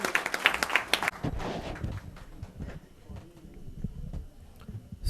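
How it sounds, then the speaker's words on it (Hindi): A few sharp claps open the welcome for a speaker at an executive meeting, then fade into scattered, quieter clapping and room noise. "स्वामी चक्रपाणी जी महाराज का जोरदार तालियों से स्वागत करते हुए, तब तक तालियां बजती रहें जब तक वो ये माइक तक नहीं आते"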